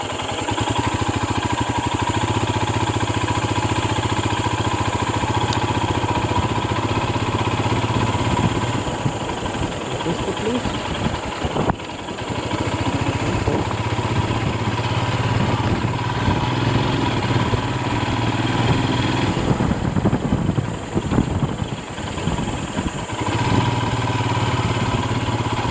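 Motorcycle engine running steadily and loud throughout a road trip between Pandaveswar and Maithon dam via Raniganj and Asansol, a constant close drone with wind rush and occasional bumps and dips, no talking.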